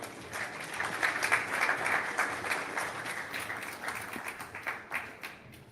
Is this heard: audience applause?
yes